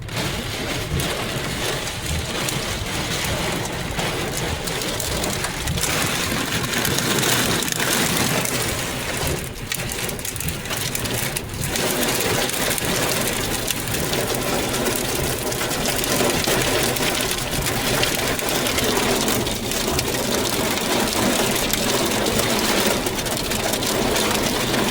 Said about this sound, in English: Sounds like you got us a good hailstorm now.